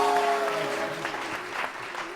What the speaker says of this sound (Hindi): बहुत सारी तालियां इस दुनिया के सबसे हैंडसम आदमी के लिए